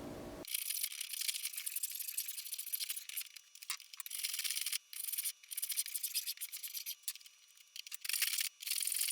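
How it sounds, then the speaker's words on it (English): A spokeshave shapes the edges of a wooden mallet, giving close, repeated rasping strokes with brief pauses between passes. "right now we're going to kind of use a spoke shave to refine the curves, round over the edges a little bit"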